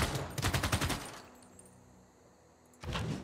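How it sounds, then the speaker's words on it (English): Machine gun units in Civilization VI come under attack: a rapid rattling burst of automatic fire up front, a quiet lull with a faint hum, then another sharp burst at the end, with no talking. "Alright, let's go ahead and eliminate those machine guns."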